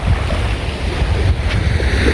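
Waves break on São Miguel beach, a steady loud roar of surf mixed with strong wind buffeting the microphone throughout.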